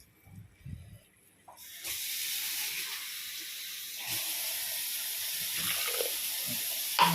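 A glass of water poured into a cooking pot of potato, beetroot, tomato and peas for pav bhaji, a steady hissing splash that starts after a quiet moment and runs on evenly, close and moderately loud, with no talk.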